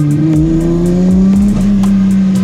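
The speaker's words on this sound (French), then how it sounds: "Tu vois, j'accélère, je lâche pour mettre en contrainte le pont, les cylindres blocs." A powerful 1000-horsepower BMW engine roars steadily, revving up and easing off, with a loud continuous growl close by.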